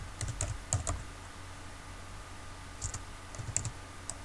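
Typing on a computer keyboard while writing a blog post: two short, faint bursts of quick key clicks close by, split by a quiet pause.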